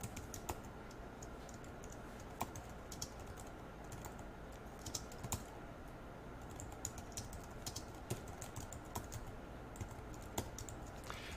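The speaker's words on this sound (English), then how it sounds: "I'm just going to type out this note." Steady computer keyboard typing at a desk while writing HTML5 form code, a continuous patter of soft keystrokes with occasional sharper clicks over a constant background hum, without speech.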